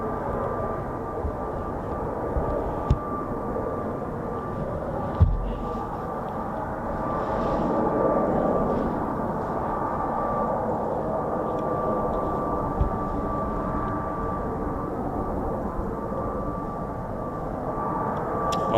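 An F-35B stealth jet's engine at a naval air squadron airfield, a steady, broad roar that holds evenly at a distance for nearly twenty seconds.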